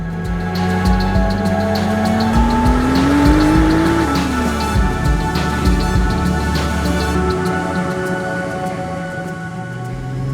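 A turbocharged VR6-swapped Volkswagen Golf Mk4 GTI, front-wheel drive, pulls hard from inside the cabin, its engine note climbing steadily then dropping back, with a continuous loud drone of engine and road noise throughout and no talk.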